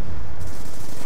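Rapid automatic gunfire from the Black Ops 2 video game, a loud continuous burst of shots filling the whole moment with no talking.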